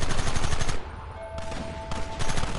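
Video game gunfire from Red Dead Redemption 2, dense bursts of rapid shots crackling loudly, a brief lull, then another volley of overlapping shots.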